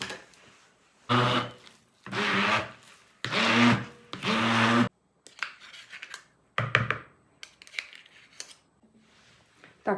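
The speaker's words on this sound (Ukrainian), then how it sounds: "Все перебиваємо блендером." A blender whirs through sour cream, milk and dark chocolate in several loud, close bursts, followed by quieter scraping and clattering.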